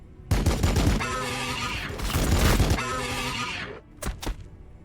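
Warhammer 40K: Battlesector combat erupts in sustained, heavy volleys of rapid gunfire that roll on for several seconds. The barrage then breaks off into two sharp, separate shots.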